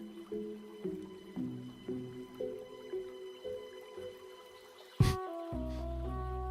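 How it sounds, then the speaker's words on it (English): Gentle dripping and trickling water plays as part of a background music playlist, soft repeated drips under steady tones, ending in a brief louder splash-like burst and a sustained chord, with no talking. "this playlist has, like, water sounds in the background"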